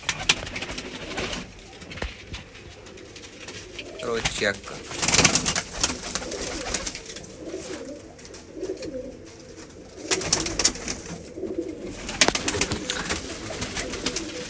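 A pair of pigeons, a male and a female, coo in soft repeated throaty bursts close by, with a few louder calls mid-way, while someone talks over them.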